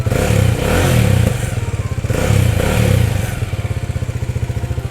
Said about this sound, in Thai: มาฟังเสียงท่อเดิมกันเลย ประมาณนี้เลยนะครับ ท่อเดิมนะ